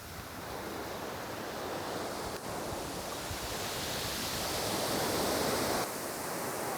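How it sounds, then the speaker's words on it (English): Ocean surf at a public beach on an incoming tide rolls in as a continuous roaring wash of breaking waves, building gradually louder before easing slightly, with some wind noise. "look at that wave. Whoa, big one, big one, big one. Incoming tide."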